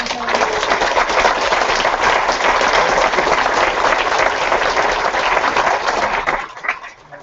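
Loud, close audience applause at a mobile-app presentation event, thick continuous clapping that holds steady for about six seconds and then drops away quickly.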